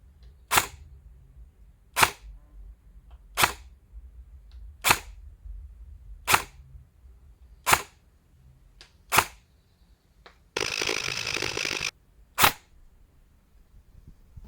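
Airsoft gun firing BBs outdoors during hop-up testing: eight sharp, evenly spaced shots about one and a half seconds apart, with a brief burst of breezy noise between the last two.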